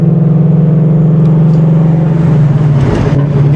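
A straight-piped Ford Mustang engine drones loud and close while driving, holding a deep, steady exhaust rumble that wavers slightly and dips near the end as the revs shift.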